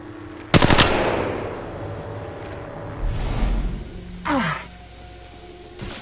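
Gunfire in Apex Legends on a training course: a loud close burst of automatic fire that fades away, then two shorter, quieter bursts a few seconds later, with no talking.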